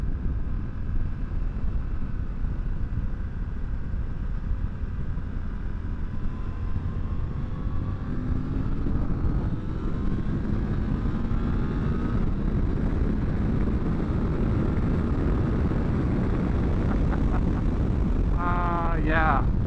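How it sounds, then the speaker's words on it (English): A 2023 Suzuki V-Strom 800 DE motorcycle engine pulls hard at full throttle with a steady close, wind-buffeted drone that rises in pitch through gear changes, then eases back down, while a rider talks over it. "I'm shifting full throttle there into fifth gear, and then I bring it back down from there."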